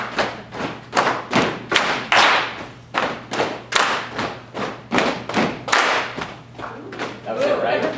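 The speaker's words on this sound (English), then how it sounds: "it's fun to hear the clap phase between the two" Audience clapping a rhythm pattern in a phasing exercise, repeated sharp claps in a steady but uneven-accented groove, close and loud, with a faint voice near the end.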